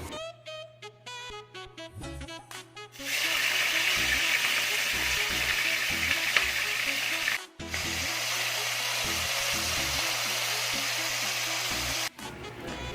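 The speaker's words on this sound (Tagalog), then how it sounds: "Sisimulan ko na nga rin magprito ng boyba" Boyba fries in hot oil in a home kitchen, a loud steady sizzle that starts suddenly after a few seconds of knocking and handling, breaks off briefly, then resumes and continues close by.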